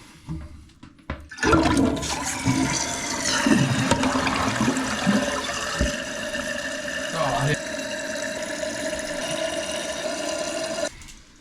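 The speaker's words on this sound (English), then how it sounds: "now the next step is we're going to flush it and see how high it fills" Toilet flushing after a new fill valve is installed, a loud rushing swirl of water followed by the steady hiss of the tank refilling, continuing for several seconds with faint background noise.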